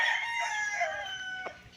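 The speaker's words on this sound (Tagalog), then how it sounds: "May alagang mga manok yung caretaker dito." A rooster crows loudly and close by, one long drawn-out call with a bright, harmonic ring, followed by a few faint clucks.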